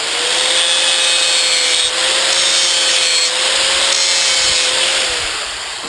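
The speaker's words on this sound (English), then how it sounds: "Take your grinder, hit it." Angle grinder biting into a pot metal zinc handle, a loud, steady high whine over harsh grinding rasp, easing off just before the end.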